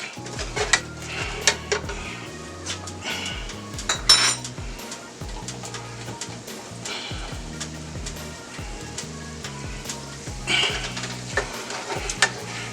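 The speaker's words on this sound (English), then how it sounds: "A heaping tablespoon of garlic. Stir that up in there just for about a minute." Garlic stirred into a pan with onions and butter, a utensil clattering and scraping against the cookware in busy repeated strokes over a soft sizzle, close and fairly loud with no talk.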